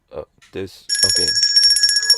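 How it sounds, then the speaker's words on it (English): A bright, sustained bell keeps ringing for over a second, entering right after a few short spoken words on a livestreamed podcast and staying fairly loud to the end. "Someone ringing the bell?"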